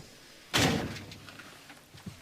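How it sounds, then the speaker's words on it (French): A bus door slams shut with one loud, sharp thud, followed by quieter rattles and faint knocks in the background. "le dernier bâton qui monte derrière ferme systématiquement cette porte"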